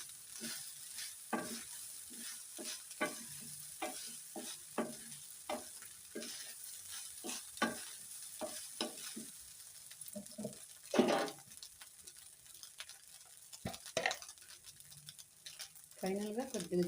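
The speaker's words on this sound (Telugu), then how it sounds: "ఇది మొత్తం రైస్కి పట్టేలాగా ఈవెన్గా కలుపుకోవాలి మొత్తం" Rice being stirred evenly with a coconut spice mix for a lunchbox coconut rice, heard as a quiet, close sequence of irregular scraping and clinking strokes with a faint sizzle underneath and no voice.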